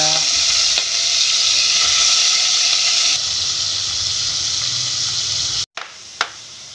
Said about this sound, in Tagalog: habang at piniprito pa natin ang isda at ang nilaga ang talong